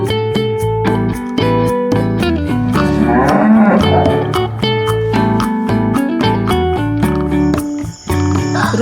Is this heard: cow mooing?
yes